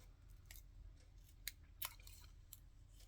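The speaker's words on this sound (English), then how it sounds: "It's very hard to cut out these sort of things because the paper's not all that thick." Scissors snipping through thin magazine paper, a few crisp separate cuts spaced out over a quiet, low background hum.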